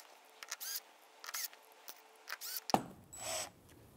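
Screws driven into a metal bracket on a Rialto Pilates reformer, several short bursts of a small power driver whirring in quick succession, close and fairly quiet, followed by a louder final burst.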